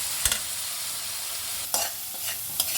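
Spice masala for Bengali-style green jackfruit and prawn curry being sautéed in a pan. A spatula scrapes and stirs in a few distinct strokes over a soft, steady sizzle.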